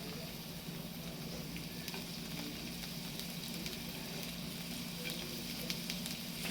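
Steady, close sizzling of garlic frying in a hot pan, a continuous crackling hiss with small pops, no voices.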